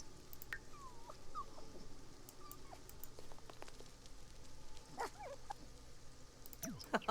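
Nougat, a dog in The Sims video game, gives soft whimpers, yips and short whiny calls scattered over a quiet game background, ending with a slightly louder burst of yelps.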